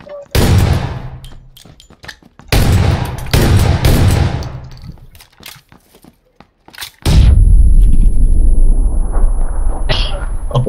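Gunfire in the PUBG battle-royale video game, with several loud broadband bursts of shots separated by short gaps, followed by a long sustained stretch of dense firing or explosion rumble.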